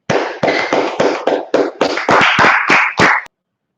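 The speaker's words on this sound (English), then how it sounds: "let's go ahead and clap it up" A group of men at a brotherhood class in Minneapolis clapping in unison, about ten sharp loud claps in a slowing-then-quickening rhythm, close and clear, then stopping abruptly.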